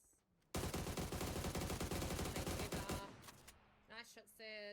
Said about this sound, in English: Nice shots there towards Rehab Anonymous